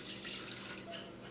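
Distilled vinegar pours into a stainless steel electric kettle as a steady, close liquid splash and trickle lasting about a second, alone with no talking.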